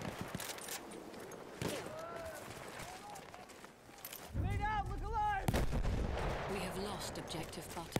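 Battlefield 1 multiplayer battle with repeated gunshots and heavy artillery-like bursts, growing louder and denser in the second half, with a wavering siren-like tone over it and speech-like sound in the mix.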